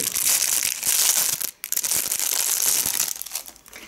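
Small plastic packets crinkle and rustle as they are handled up close, a dense, continuous crackling with a brief pause partway through.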